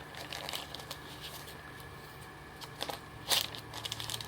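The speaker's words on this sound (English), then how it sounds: "So when you're done, your mica paint, just slide it into a plastic bag" Mica paint slid into a plastic bag, giving quiet, intermittent crinkling and rustling of plastic with a few sharper crackles.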